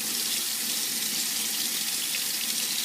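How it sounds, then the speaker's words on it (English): Water runs steadily from a tap as a hookah purge valve is rinsed beneath the stream, a close, constant splashing hiss with no pauses. "I like to rinse out my purge valve also."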